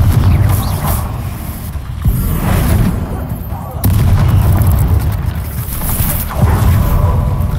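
Repeated Confringo blasting spells firing in Hogwarts Legacy, loud punchy bursts landing every couple of seconds amid busy combat noise, with a voice faintly underneath.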